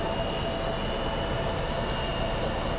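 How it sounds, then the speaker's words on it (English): Airliners take off at Phoenix Sky Harbor International Airport, their jet engines producing a continuous broad roar with a faint steady whine, heard from a distance without any talk. "The American Airlines is going and the Southwest is going at V1 speeds right now."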